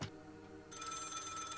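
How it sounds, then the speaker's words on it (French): Telephone ringing inside the horror video game Maid of Sker, a steady electronic-sounding ring that starts partway through and continues at moderate level, with no talking over it. "Il y a le téléphone qui sonne."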